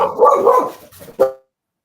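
A dog barks at close range in a home, a few loud bow-wow barks in quick succession ending with one short final bark.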